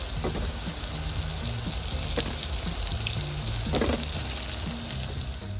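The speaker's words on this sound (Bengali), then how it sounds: "ভেজে দিয়েছি এবার তুলে নেব" Red lentil fritters fry in a karahi of hot oil, giving a steady bubbling sizzle with a few sharper crackles, close and alone without any talk.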